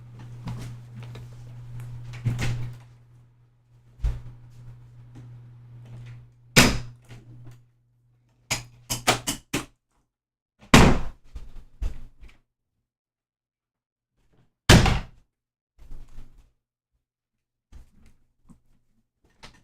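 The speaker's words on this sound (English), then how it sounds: "I'm gonna close my other door and maybe turn off my air conditioner" A room door is shut in a home office during a game-engine programming session, with several sharp knocks and thuds spread across a quiet room with an air-conditioner hum, loud and close, and no talking.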